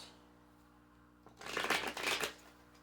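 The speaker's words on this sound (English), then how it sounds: "I'm going to pull some Kali cards for the stubborn heart" Kali oracle cards shuffled close to the listener in one brisk, papery riffle lasting about a second, against a quiet background hum.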